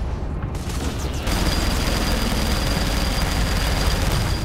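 A rocket blast in the action game Saints Row IV: a heavy, continuous roar of explosion and rumbling debris that swells after a brief lead-in and holds loud and dense to the end.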